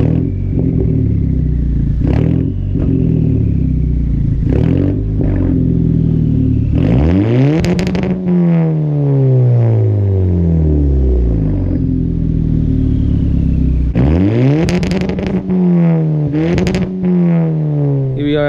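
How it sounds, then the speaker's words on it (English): A Lexus IS350 all-wheel drive on a widebody build bounces off its two-step launch control, loud and close, with repeated sharp rev climbs and popping, stuttering limiter bursts. "You guys wanna hear a two-step?"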